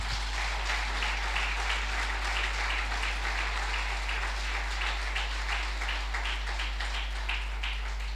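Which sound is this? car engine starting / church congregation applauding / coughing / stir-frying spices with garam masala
church congregation applauding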